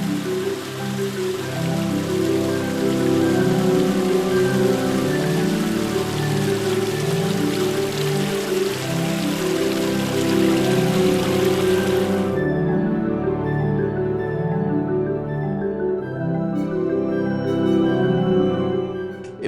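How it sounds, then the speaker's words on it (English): Small waterfall in an icy winter ravine beside a trail, a continuous hiss of falling water heard under steady musical tones; the water noise drops away sharply partway through while the music carries on. "we noticed a small waterfall in a ravine to the left of the trail"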